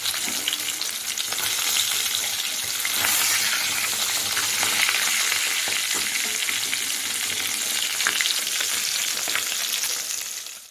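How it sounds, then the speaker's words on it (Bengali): Koi fish rubbed with salt and turmeric frying lightly in hot oil, a steady close crackling sizzle filling the whole stretch with slight swells, no voices. "কই মাছগুলো নুন হলুদ মাখিয়ে নিয়ে তারপরে ভেজে নিলাম।"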